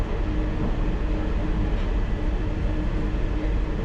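A London Underground Piccadilly Line train running steadily, a continuous loud rumble and rail roar with no breaks, heard from inside the moving train.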